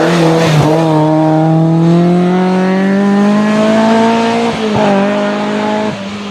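A race car engine holds a loud, steady, high-pitched note, and its tires squeal as the car slides off the track. Brief dips in the sound come near the end.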